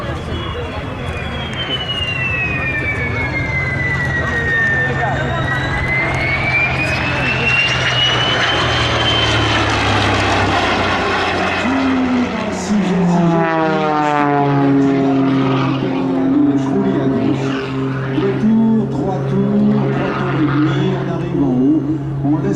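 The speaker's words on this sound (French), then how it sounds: "L'avion continue, il arrive en haut, il est cramponné à l'hélice" A propeller aircraft performs aerobatics at an airshow, its engine droning loudly and continuously with a rising and falling pitch as it climbs and turns, later shifting to a steadier, rougher tone; no speech is heard over the engine.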